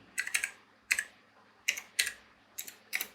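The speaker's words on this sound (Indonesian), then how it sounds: "Sini kita ketik Trizen" A terminal command is typed on a computer keyboard in close, crisp bursts of clicking keystrokes separated by short pauses, quiet and alone with no talking.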